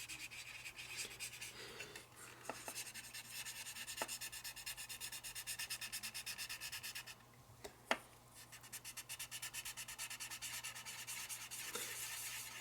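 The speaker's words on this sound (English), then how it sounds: "all I'm doing is sanding" Sanding on a model railroad building, a steady, close-up rasping rub that runs nearly continuously, with a brief pause and a sharp tap near the middle.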